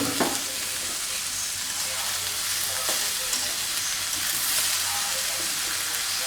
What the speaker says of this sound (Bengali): এখন হচ্ছে দিয়ে দিচ্ছি পাতাকপি ভাজি।